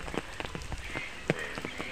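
Rain patters close by, irregular drops tapping a surface over a constant soft wash, with one sharper splash standing out.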